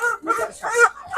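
A hybrid Wolaita rooster at an Ethiopian Easter holiday market gives a few close, loud clucking calls in quick succession.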